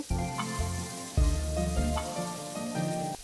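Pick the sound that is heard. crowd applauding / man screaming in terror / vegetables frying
vegetables frying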